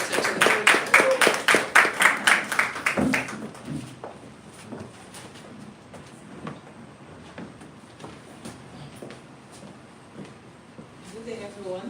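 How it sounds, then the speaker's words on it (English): Audience applause at a press conference: a burst of fairly dense clapping from a crowd lasting about three seconds, then fading into a quieter room with scattered claps and shuffling noises. "Please let's give her another round of applause"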